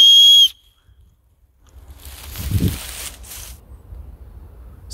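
A survival whistle from a bushcraft bug-out bag gives one short, loud, shrill blast. Quieter rustling and handling noises follow.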